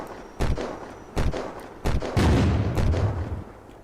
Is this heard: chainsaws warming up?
no